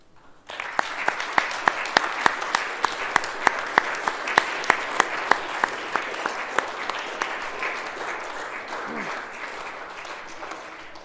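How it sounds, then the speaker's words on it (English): A school assembly crowd at an end-of-term event breaks into sustained applause, with a few distinct louder claps punctuating the steady wash of hands throughout, lasting around ten seconds. "if we could have a round of applause for Harry, Ewan, Charlie and William in Year 8."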